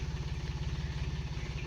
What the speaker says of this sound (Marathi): ट्रॅक्टर आला आपलं मळ्यातून